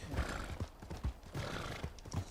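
A donkey gallops in Red Dead Redemption 2, its rapid hoofbeats clopping in a steady rhythm with a brief whinny-like bray, fairly close and moderately loud with no talking.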